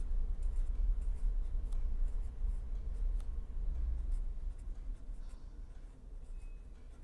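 Chalk or marker writing on a board during a university lecture on vibrations of a rectangular membrane, soft scratchy strokes and taps coming in short bursts, fairly faint, with no talking.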